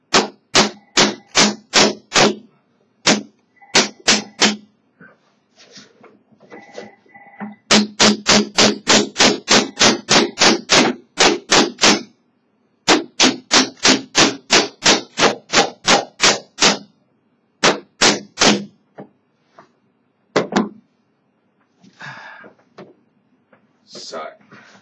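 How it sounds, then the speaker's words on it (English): A cKc puukko knife is hammered through extremely hard plastic: sharp, loud striking blows land in fast rhythmic bursts of many hits, separated by short pauses and a few isolated single knocks. "I just hammered it all the way through this extremely hard plastic."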